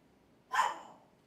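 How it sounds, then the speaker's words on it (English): A single dog bark, short and fairly close, rises sharply out of a quiet room and fades quickly. "Oh, now you want to bark."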